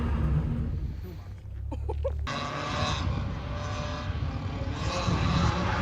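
A stock Nissan 240SX drifts and spins in a clutch-kick attempt, its engine roaring loud and continuous with tyre noise, broken by a brief lull before the revs surge again.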